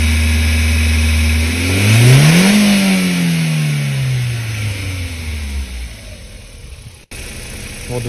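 An Audi A4 B5 engine revs in a car repair shop, climbing sharply from idle to a loud peak before winding slowly back down, close and alone.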